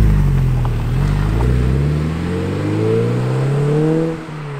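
Porsche 944 Turbo pulling away from a standstill, its engine revving steadily higher in pitch as the car accelerates. The sound is close, loud and continuous, with no talking.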